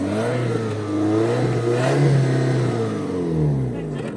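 Car engine revs while still cold, loud and close, rising and falling in pitch through repeated throttle blips, with a voice speaking over it.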